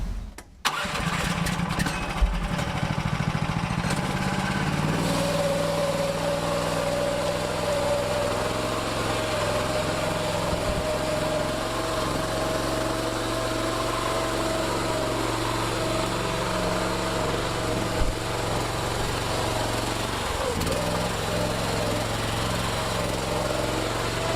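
A homemade articulating 4x4 dump truck with a 420cc Predator engine starts up and runs steadily outdoors, a loud continuous engine drone with a slight rise as it works up a hillside.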